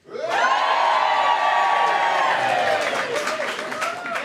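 A television studio crowd roars with cheers, whoops and high excited shouts, rising sharply and staying loud throughout before thinning into scattered calls at the end.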